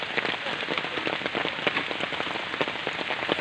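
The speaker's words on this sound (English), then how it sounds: "It's still raining." Continuous rainfall drumming on surfaces outdoors at a farm fish harvest, a dense even patter with scattered heavier drops, close and unbroken throughout.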